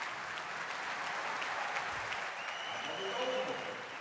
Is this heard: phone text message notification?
no